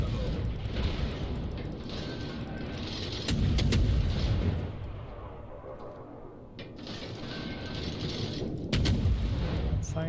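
Warship gunfire in the World of Warships naval game, with heavy booming salvos landing in bursts around three and nine seconds over a continuous rumbling, mechanical battle din.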